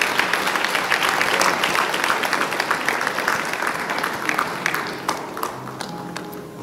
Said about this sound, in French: Madame Aminata Tungara, que je demande d'applaudir